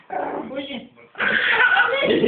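A dog gives short yips and barks mixed with whimpers, close by and overlapping with people talking in Bulgarian.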